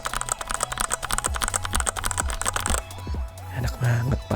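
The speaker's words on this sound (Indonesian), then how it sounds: "Salah satu hal yang pertama kali gue lakuin tuh ketik-ketik keyboard." A Fantech Maxfit61 mechanical keyboard is typed on rapidly, producing dense, close, clacky keystrokes in a steady stream that thins out near the end.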